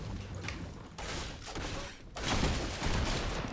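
Double barrel shotgun blasts in a Fortnite-style shooter game, with heavy bursts of gunfire at about one and two seconds and louder, denser firing in the second half amid busy game noise.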